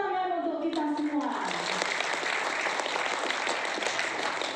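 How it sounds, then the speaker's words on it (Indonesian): An audience at an Atomy introduction talk breaks into clapping after a voice calls out, the applause building into a steady, moderately loud patter that fills the room. "Tepuk tangan untuk kita semua"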